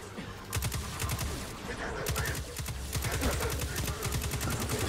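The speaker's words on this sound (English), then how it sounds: "it's the minigun. Who are you shooting at?" Rapid minigun fire in the Destiny 2 video game, a dense steady stream of closely spaced shots that runs loud and continuous through most of the stretch with only a brief break.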